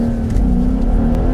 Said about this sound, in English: Give them throttle, more throttle.